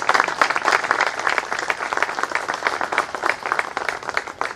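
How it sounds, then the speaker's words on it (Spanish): A group applauds municipal inspectors during a tour of their new municipal building in Brinkmann, a lively burst of many hands clapping close by, sustained and fairly loud with quick irregular peaks. "Así que un aplauso para ellos también."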